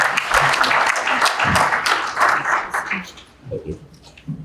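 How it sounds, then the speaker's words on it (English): Audience applause at a panel event on local news and civic information, a broad wash of clapping that swells briefly and then fades as a voice begins speaking. "So give her a round of applause."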